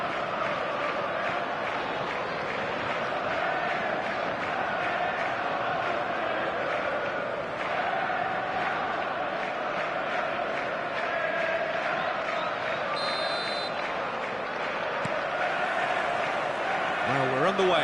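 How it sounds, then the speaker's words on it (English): A dense stadium crowd roars steadily on match day in the eFootball video game, a loud, continuous wall of cheering and chanting that holds at one level throughout. "This crowd doesn't do ordinary, and we should be in for something very special."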